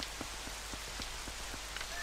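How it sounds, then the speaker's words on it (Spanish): Rain in The Legend of Zelda: Twilight Princess, a dense continuous hiss of falling drops at moderate level with faint soft regular thumps beneath, no speech. "por algún motivo se ha puesto a llover"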